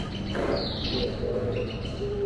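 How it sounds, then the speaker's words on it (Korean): Soft cooing from a pigeon in a cave-like spot in Hokkaido, heard briefly amid chirpy, airy background noise. "이건 비둘기잖아."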